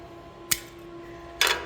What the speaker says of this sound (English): Cut that wire off.